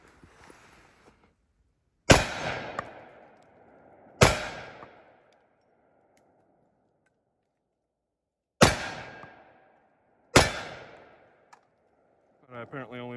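Four sharp, loud shots from a Magnum Research Desert Eagle .50 AE pistol, each a hard crack with a ringing decay, spaced irregularly with quiet gaps between, followed by a brief mechanical rattle at the end.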